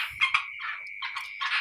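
A rice field frog croaking in short, shrill rasping bursts while being eaten by a Dragon Snake (Xenodermus javanicus), the calls close and faint-to-moderate, trailing into a longer croak with no voices.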